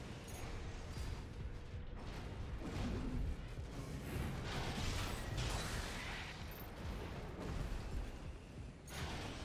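Incoming missiles in Armored Core 6 come through as a dense, steady mechanical roar with repeated whooshing bursts and impacts, fairly loud, and no talk throughout.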